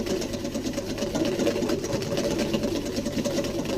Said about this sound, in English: as you can see, I am whisking vigorously, I'm not stirring